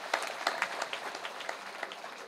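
Women in a kirtan audience clap together in a brisk, fairly even rhythm, a small crowd heard at moderate distance with no voices over it.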